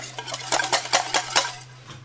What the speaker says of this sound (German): Eure Linsen solltet ihr übrigens zwischendurch immer mal wieder umrühren.